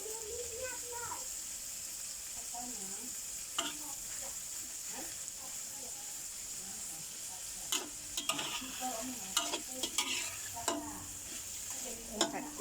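Shrimp stir-fried with stink beans sizzles steadily in a pan, with sharp scraping stirs and clatters growing busier toward the end while a voice talks over the frying.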